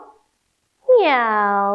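A person imitates a cat, giving one drawn-out meow after a moment of silence.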